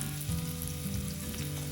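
Thinly sliced onion fries in a turmeric tempering oil for Guntur gongura onion chutney, giving a dense, steady sizzle that stays quiet and continuous throughout.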